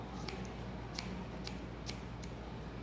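Hair-cutting scissors snip through a strand of hair during a men's disconnected cut, about six crisp close metallic snips spaced unevenly over a quiet background.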